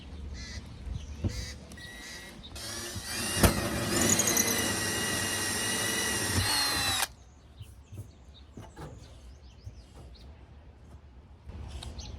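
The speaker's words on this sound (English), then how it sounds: "Wow, fiberglass is pretty thick. All right, the hole is drilled." A power drill bores a hole through thick fiberglass on an RV, a loud steady whine lasting about four seconds before cutting off, followed by quieter handling clicks and outdoor background.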